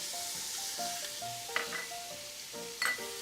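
Onions and celery sautéing in fat for braised short ribs, a steady soft sizzle with faint clinks of a utensil against the pot and musical tones in the background.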